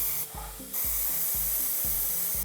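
A Sparmax Max-4 airbrush with a 0.4 mm needle spraying paint gives a steady, loud hiss of air, with a short dip early on and regular low thumps from the compressor underneath.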